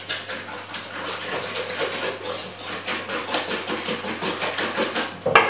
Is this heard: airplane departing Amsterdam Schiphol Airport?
no